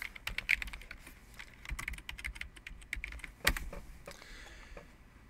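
Login being typed on a computer keyboard, with quick, close, moderately quiet key clicks arriving in an irregular run, plus one sharper keystroke partway through.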